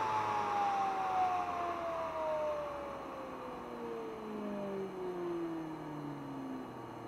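A Zero Lenz dynamo wheel spins down, its steady whining tone sliding gradually lower in pitch as it decelerates; faint and continuous with no voices.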